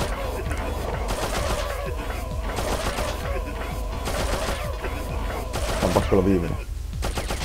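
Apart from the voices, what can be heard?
gunfire from the video game Abe's Exoddus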